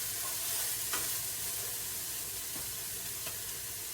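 Sausage browning for sausage gravy in a pan, sizzling steadily and loudly with a dense frying hiss, with a few light scrapes as it is stirred.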